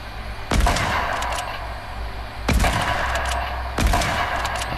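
Cannons fire in Fortnite, three heavy booming blasts spaced about two seconds apart, each trailing into a rumbling decay over constant game noise.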